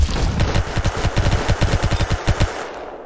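Rapid automatic gunfire from a 20-round gun in the Roblox game Arsenal, a burst of close, loud shots in steady rhythm lasting most of the clip before cutting off.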